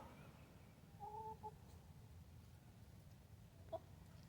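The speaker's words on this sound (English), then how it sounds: "And here comes our old rooster" An old rooster with some frostbite gives a brief clucking call, faint and somewhat distant, followed by a short sharp note a few seconds later over a quiet background hum.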